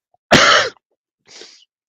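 A single harsh cough, loud and close, followed after a short silence by a fainter breathy second cough, with no other sound around it.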